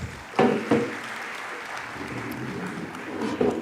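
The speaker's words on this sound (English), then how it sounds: "A round of applause." Moderate audience applause at a national global change conference session, a continuous wash of many hands clapping with a few louder accents near the start and end, heard at some distance.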